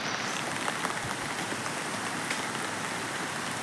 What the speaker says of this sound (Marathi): आज सकाळी 5:30 वाजल्यापासून पाऊस लागतो, तर अजून पण थांबला नाही आहे